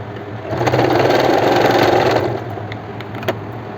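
A sewing machine runs a second line of stitching through the elastic waistband of palazzo pants, a close, loud whirring burst of about two seconds that then stops, followed by a few faint clicks.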